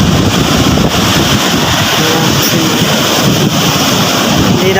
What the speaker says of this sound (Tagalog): Hindi pa po natatapos ang alon at hangin na malakas, malaki ang alon.